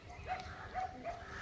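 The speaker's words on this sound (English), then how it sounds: "Sorry guys for the background noise of these dogs." Dogs bark and yip faintly in the background at a friend's place in Kunnur, Nilgiris, a few short distant calls over a quiet room.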